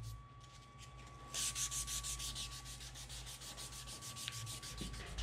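Sandpaper rubs back and forth on a desert ironwood knife handle in a quiet workshop. The strokes are close, steady and rhythmic, and no one speaks.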